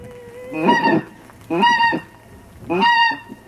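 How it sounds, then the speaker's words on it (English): Pink-footed geese honk in three separate bursts, loud nasal calls spaced about a second apart, nearby against a faint background hiss. "That's the sound of the pink-footed goose."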